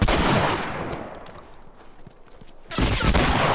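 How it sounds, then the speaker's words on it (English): Shotgun gunfire in The Last of Us multiplayer, with loud, dense volleys of shots at the start and again near the end and a quieter stretch of scattered game noise between them. "He's got a shotgun."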